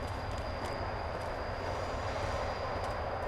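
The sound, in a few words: tram passing in video game Fallout New Vegas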